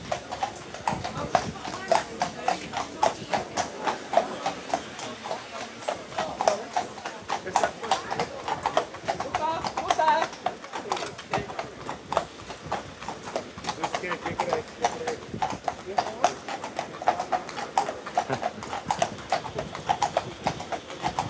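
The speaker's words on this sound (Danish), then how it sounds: "jeg har Hollands politi foran mig. Ordentlige heste, det der." Dutch police horses walking on an Amsterdam street, a steady rapid clip-clop of many hooves close by, continuous throughout, with someone talking over it.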